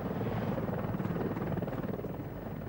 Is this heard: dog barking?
no